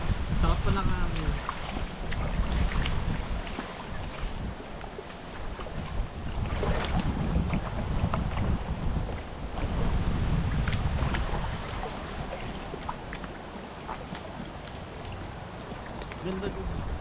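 Wind blows steadily at a cold riverside campsite in Daraitan, producing continuous rushing and buffeting against the microphone with gusty swells, and faint voices mixed underneath.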